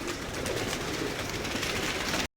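Pigeons coo in a large room used as a big cage, a steady, dense murmur of many birds nearby without pause and no talk.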